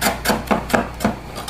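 A knife slices vegetables very thinly on a bias against a cutting board in quick, evenly spaced strokes, about six cuts in under two seconds, close and clear.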